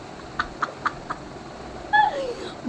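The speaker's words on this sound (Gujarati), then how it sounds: "જો કબૂતરનો અવાજ આવે છે તમને" A pigeon coos at a window in a short run of four soft, evenly spaced low calls, followed by a brief louder sound, with faint background hiss.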